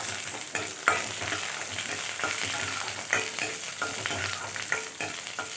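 Three green chillies sizzle in hot oil in a pan while being stirred for a Tamil-style pachadi, a steady crackling fry broken by occasional clinks and scrapes of the spoon.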